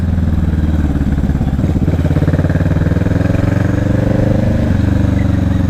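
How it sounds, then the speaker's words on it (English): A motorcycle engine putters loudly nearby with a steady, rapid pulsing beat and a slight shift in tone near the end, heard alone with no talking. "A bike behind us."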